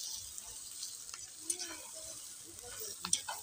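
Sautéed potatoes and onion stirred in a pan, soft scraping and clinking of the utensil over a faint steady sizzle, quiet and close with a few sharper taps.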